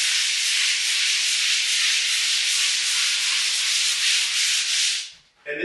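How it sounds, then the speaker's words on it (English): Steady, close, loud abrasive hiss of a taped drywall joint being lightly sanded, carrying on evenly for several seconds before stopping abruptly near the end. "I'm just going to tape this over the joint, and I'm just going to kind of lightly sand."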